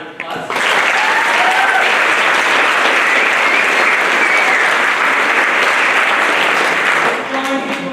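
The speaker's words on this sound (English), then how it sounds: "Give them a round of applause." Loud, sustained applause from a school audience at a spring band concert, dense clapping that starts abruptly and continues for about seven seconds before tapering, with a few voices audible in the crowd.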